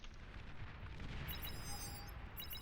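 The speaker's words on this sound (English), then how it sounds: "But there is some sniper gunshot noises." In the Beyond All Reason real-time strategy game, sniper gunshots and a Hound volley make a dense, faint, continuous rumble of booms and bursts with bright crackling on top, all without talking.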